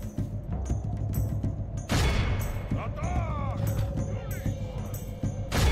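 Cannon fire on a battlefield in the strategy game Medieval 2: Total War, with sharp booms at about two seconds and near the end over a steady din of battle noise, crackling shots and a whistling projectile sweep.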